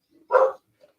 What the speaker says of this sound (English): my dogs are in the office